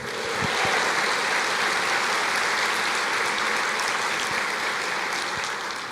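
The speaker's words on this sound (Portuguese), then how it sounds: "Pode aplaudir o Senhor" A church congregation applauds the Lord during a sermon, a dense, steady wash of clapping that holds loud and even for the whole stretch.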